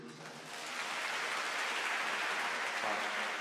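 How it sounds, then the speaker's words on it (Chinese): An audience breaks into applause that swells after half a second and holds as a dense, even clapping wash for the rest of the clip. "掌声鼓励一下。"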